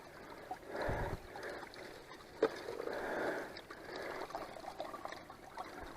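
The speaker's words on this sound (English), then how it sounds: "I wish I had a little more water flow, but that may increase as this level comes up." Water trickles and gurgles through a gold prospecting sluice set in a creek, a steady low wash with a brief knock partway through and no voices.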